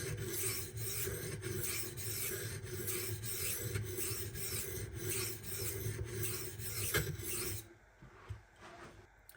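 Kubey Master Chief AUS-10 kitchen knife stroked across a Naniwa 400 grit whetstone, a close, rhythmic rasping scrape repeating in quick even strokes for several seconds, then stopping.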